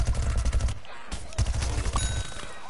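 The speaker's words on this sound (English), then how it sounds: "He has a minigun and goes nuts." Minigun fire in Plants vs Zombies, a rapid, dense burst of shots that stops briefly and then picks up again, loud and close.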